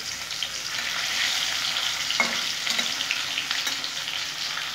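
Pomfret fish frying in hot oil, a steady close crackle and hiss held at an even level throughout, with a couple of brief spatters rising above it.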